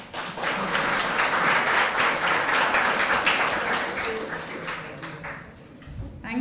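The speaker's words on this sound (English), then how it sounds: "The round of applause should be heard loudly." A seminar audience gives a round of applause for a keynote speaker's felicitation, many hands clapping in a full, sustained wave that gradually thins and fades toward the end.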